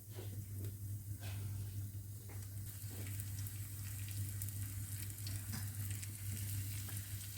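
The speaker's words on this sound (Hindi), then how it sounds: "अभी मैंने तेल गरम कर लिया है फ्राई पैन में, और मैं इसमें ये स्टिक डाल रही हूँ।" Chicken sticks fry in hot oil in a frying pan, giving a continuous, even sizzle and crackle over a steady low hum, with no voices.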